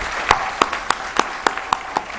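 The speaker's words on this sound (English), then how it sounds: "I think all of you deserve a round of applause" At a convocation, a few loud, sharp claps ring out one at a time in a slow, even rhythm, about seven in two seconds, close and distinct rather than a full crowd's applause.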